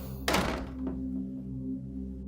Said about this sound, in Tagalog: Nagising ako noon sa biglaang pagsara ng todo ng pinto.